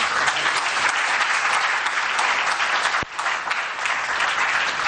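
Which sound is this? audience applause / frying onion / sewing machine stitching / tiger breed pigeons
audience applause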